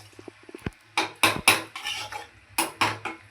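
A lid goes onto a cooking pot of cabbage and soybean vegetable curry with a series of close metallic clanks and rattles after a few softer clicks.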